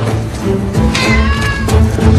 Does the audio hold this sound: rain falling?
no